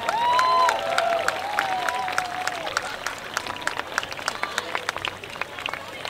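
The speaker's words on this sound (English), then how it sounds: "we would like you to give them a big round of applause" An outdoor crowd at a sports club halftime ceremony claps and cheers, with shouted voices early on, then thins to scattered, separate claps that fade toward the end.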